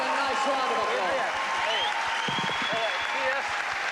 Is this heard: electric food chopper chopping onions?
no